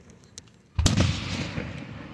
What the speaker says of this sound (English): The fireworks are changing colors.